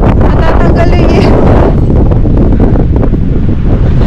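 Strong wind buffets the microphone outdoors in Finland, a loud, continuous rumbling roar with gusty surges throughout the clip.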